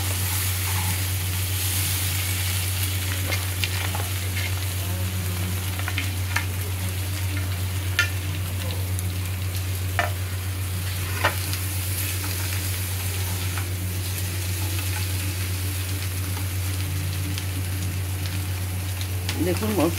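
Potatoes fry with spices in a pan, giving a steady sizzle under a constant low hum, with occasional scrapes and taps from stirring.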